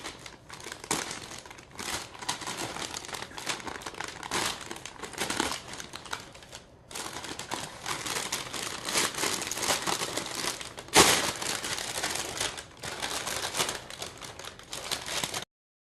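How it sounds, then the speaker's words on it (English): Plastic packaging of a Chinese military PLA 09 ration meal is torn and crinkled open close up, a long series of rustling, crackling bursts with a couple of short pauses. "For this, I'm just going to tear this part."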